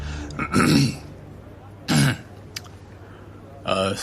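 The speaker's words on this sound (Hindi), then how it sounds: "ने सभी का ध्यान अपनी ओर आकर्षित करने के लिए जोर से खांसी की" Several loud, close throat-clearing coughs spaced a second or more apart, with brief quiet gaps between them.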